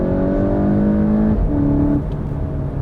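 2018 VW GTI hot hatch accelerating hard, heard from inside as the engine note climbs steadily, then a quick shift and a renewed rise, loud and close without talk.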